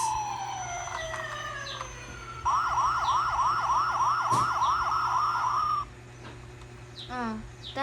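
Toy police car siren wailing in a loud, rapid repeating warble for several seconds amid electronic toy tones and beeps, with a brief higher chirping sweep near the end; no talking.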